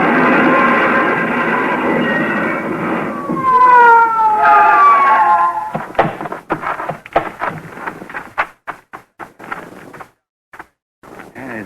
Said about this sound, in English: Whoever it was paid no attention to our siren